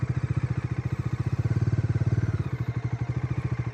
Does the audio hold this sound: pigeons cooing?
no